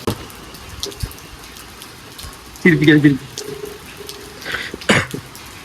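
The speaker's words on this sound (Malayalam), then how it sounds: "മഴ തീരും." Steady rain makes a continuous broadband hiss throughout. Voices and a few brief louder sounds break in over the rain partway through.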